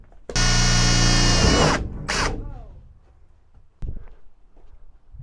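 A power drill bores holes through the metal body of a Peugeot Boxer van, one loud sustained burst followed by a shorter second burst, then quieter clunks and handling noise.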